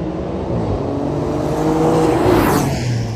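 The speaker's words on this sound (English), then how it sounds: "I would have liked a little bit more of an aggressive exhaust note because I know Maserati can do it." A Maserati GranCabrio Trofeo convertible's engine and exhaust hum steadily while driving, rising into a stronger swell toward the end, heard alone without talk.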